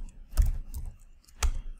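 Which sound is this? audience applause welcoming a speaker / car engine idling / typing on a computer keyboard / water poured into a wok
typing on a computer keyboard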